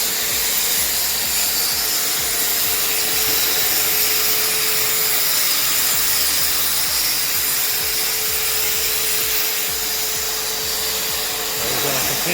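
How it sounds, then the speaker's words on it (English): A grinder works steadily over patched cracks in a concrete patio, giving a continuous loud whirring drone with scraping texture that holds even for the whole stretch. "So we're going to continue to grind this area here, all these little spots where we had some holes we had to patch in."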